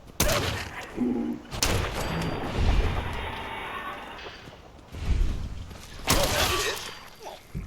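Gunfire from settlers in the video game Fallout 4, several loud cracking shots and bursts in quick succession, some with a shattering edge, with a brief voice in between.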